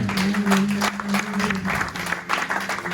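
A church congregation claps steadily and loudly for a few seconds, with a sustained held tone, likely an instrument, running underneath the applause.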